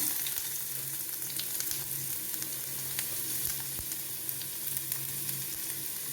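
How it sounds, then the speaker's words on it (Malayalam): Ginger frying in oil in a pan after mustard seeds have popped, a steady close sizzle and crackle running throughout with a few sharper pops and faint stirring. "ഇഞ്ചിയൊക്കെ നല്ലപോലെ മൂക്കണം"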